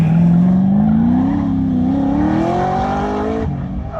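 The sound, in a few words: autocross car driving hard on course, tires squealing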